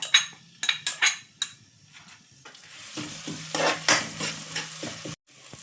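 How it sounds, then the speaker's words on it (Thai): Chili and garlic stir-fried in oil, for clams: sharp spatula clinks and scrapes against the pan come first, then a louder stretch of sizzling and stirring, all close by without speech. "ตามด้วยพริกกับกระเทียมเอาไปผัดค่ะ"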